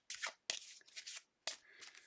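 Close, crisp riffle shuffles of a deck of playing cards at a tarot reading, three or four quick bursts of flapping card edges with short pauses between, no talking.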